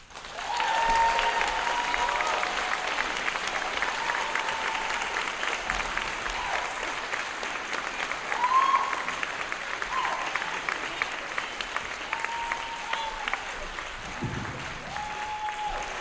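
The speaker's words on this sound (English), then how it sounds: "please give a round of applause to our favorite band director, Casey Tom" A concert crowd at a Kailua High School band senior tribute applauds its band director in a long, sustained wash of clapping with faint scattered voices and cheers underneath.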